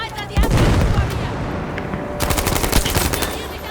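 Gunfire in the video game Battlefield V, loud bursts of automatic fire and rattling shots in two clusters, with voices shouting under the battle noise.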